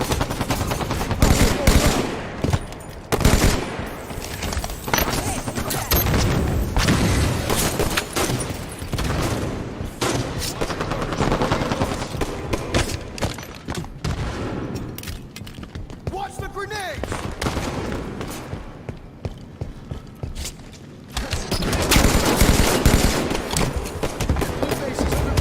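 Rapid automatic gunfire in a Halo 5 ranked match, loud bursts and repeated volleys crackling through a dense battle mix, with heavier booms and a player talking over the shooting at times.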